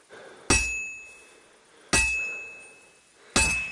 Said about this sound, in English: I have to hammer it more evenly